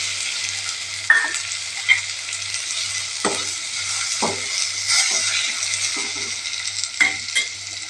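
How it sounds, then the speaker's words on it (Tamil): Onions and tomatoes sauté in a pan with a constant close sizzle, broken by scattered scrapes and taps of a spoon on metal, no talking over it. "வெங்காயம் வதங்கிடுச்சிங்க. தக்காளி போட்டுக்கலாம்"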